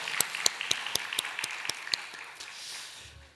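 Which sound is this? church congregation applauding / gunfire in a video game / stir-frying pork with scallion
church congregation applauding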